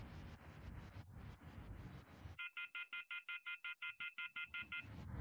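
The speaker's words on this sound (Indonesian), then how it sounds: "Coba telepon si Deden lagi." A telephone rings on the line while someone places a call: after a burst of windy rumble, a rapid series of about a dozen evenly spaced electronic ring pulses sounds clearly.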